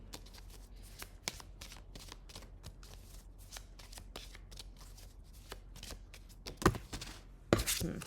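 A deck of tarot cards shuffled by hand close up, with repeated soft riffling flutters and a couple of sharper snaps near the end, quiet and alone.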